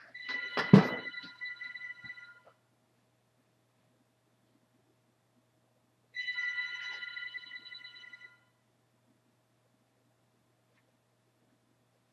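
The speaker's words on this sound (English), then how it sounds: "And there's the phone." Telephone ringing indoors, two separate bursts of trilling rings a few seconds apart, fairly clear against a quiet room.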